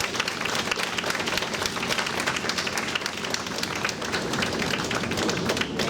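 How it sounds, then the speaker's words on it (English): Applause from an audience at a community Wear Orange event, brisk continuous clapping at full strength from start to finish, crowded and fairly near, with no speech over it. "give them a round of applause"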